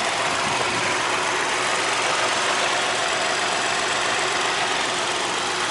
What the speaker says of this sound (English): Very smooth engine noise there.